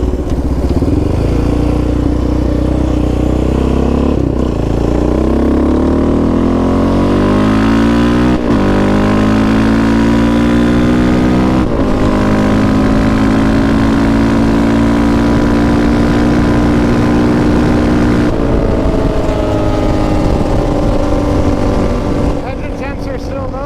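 A Yamaha Raptor 700 ATV on knobby tires runs loud and close, its engine droning continuously with rising and falling revs and gear-like pitch sweeps throughout.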